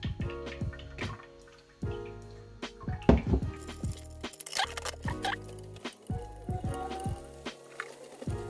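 Water dripping through a Brita Maxtra+ filter cartridge, a series of close, irregular drips and plops of varying loudness, with no voices.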